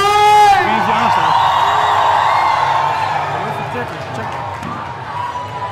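Crowd cheers, whoops and applauds loudly for a performer, Simon de Steenwijk, at an event in Voorthuizen, with a sharp burst of noise at the start settling into sustained cheering that slowly fades.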